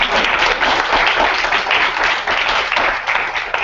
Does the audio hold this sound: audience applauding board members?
yes